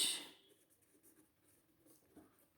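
An answer is written on paper in faint, close scratchy strokes, with a few soft taps and pauses between the marks.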